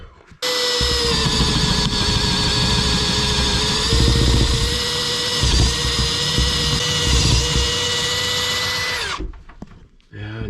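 A power drill whines loudly and continuously while boring into wood in a log cabin loft, running steadily for about nine seconds before stopping abruptly.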